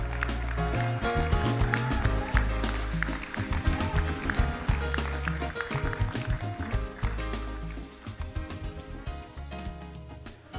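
A standing audience of Rotarians at a district conference in a Grand Hyatt Seoul ballroom applauds the Rotary secretary general. The thick, continuous clapping carries on over background music for about ten seconds, dipping briefly near the end.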